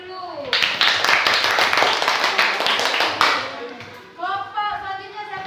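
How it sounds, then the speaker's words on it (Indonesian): A school classroom of students applauds for a group after its presentation, with dense clapping for about three seconds that then fades as voices take over. "Kasih tepuk tangan dulu"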